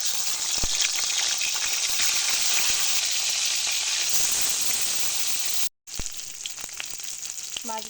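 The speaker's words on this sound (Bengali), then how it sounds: "লবণ হলুদ মাখানো মাছগুলো ভেজে নেব।" Pieces of fish coated in salt and turmeric frying in hot mustard oil, a loud continuous hiss and crackle that cuts out for a moment before resuming, close and without talking.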